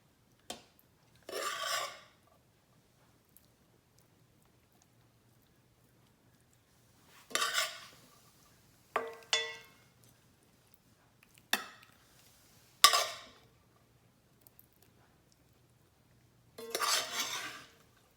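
Ground meat being scraped and spread over noodles in a casserole dish for a pizza casserole, several separate scraping and rubbing strokes with utensil clinks, close and quiet with long silent gaps between.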